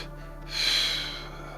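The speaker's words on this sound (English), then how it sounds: "Let's do quick three quick exhales." A group exhaling sharply together during an energy session, a brief breathy whoosh that swells and fades within about a second, fairly close and clear.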